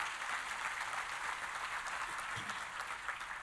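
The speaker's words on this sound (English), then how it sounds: "you can clap for that" Audience applause at a greenway breakfast during a keynote talk. Fairly faint but steady clapping from a crowd continues evenly throughout, heard from some distance.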